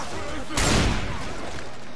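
A shotgun blast in a multiplayer video game, one loud burst about a third of the way in, over a steady background of game noise with no talk.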